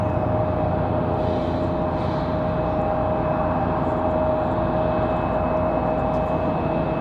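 An Embraer E175 jet starts up on the airport apron nearby, a steady droning engine rumble with a rising whine tone holding throughout, no talking.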